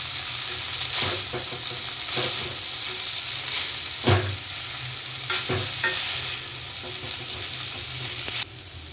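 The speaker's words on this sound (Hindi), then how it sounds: "अब देखिए फोक की सहायता से इसको ऐसे यूँ मिक्स कर लेंगे अच्छे से" Vegetable Maggi noodles stirred with a fork in a pan, sharp periodic scrapes and clinks about once a second over a continuous loud sizzle, close up, with no talking.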